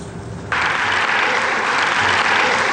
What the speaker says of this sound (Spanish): En medio de aplausos, Diana Salazar fue posesionada como fiscal g